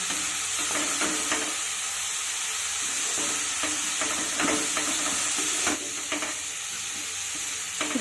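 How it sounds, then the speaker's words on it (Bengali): Bathua greens are stir-fried in a hot pan, giving a steady close sizzle with repeated scraping and stirring strokes throughout. "নেড়ে চেড়ে শাকটাকে ভেজে নিচ্ছি"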